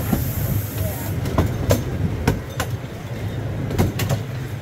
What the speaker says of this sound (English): you just rode the J&J Railroad here at Storybook Land